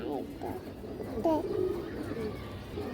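Ring-eyed racing pigeons coo softly in short bursts near the middle while someone talks steadily over them.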